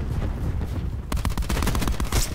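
Heavy gunfire from the TITAN heavy gun in Call of Duty: Black Ops 4 erupts in rapid bursts after a quieter stretch, loud and close, with shots stacking into a dense barrage.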